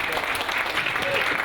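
An audience at a university awards ceremony claps steadily in a short, dense burst of applause.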